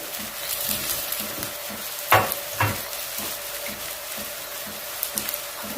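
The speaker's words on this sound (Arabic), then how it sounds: "نضرب تشويحه بسيطه ونشيل الصدر من الطاسه" Chicken breast seasoned with black pepper and salt sautéing in a pan gives a steady, close frying sizzle, broken by a couple of sharp clinks and scraping stirs.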